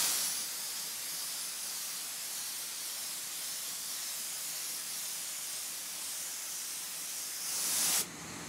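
A spray gun applying a light coat of color to a guitar body in a finishing shop, a steady, close airy hiss that holds evenly for about eight seconds before abruptly cutting off.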